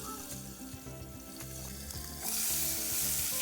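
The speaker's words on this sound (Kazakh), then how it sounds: "Қызған табамыздың үстіне майымызды құйып, етімізді қызарғанша қуырып алатын боламыз." Meat fries in hot oil in a pan for a Kazakh zhaima dish, giving a steady, close sizzle that swells louder partway through, with no talk.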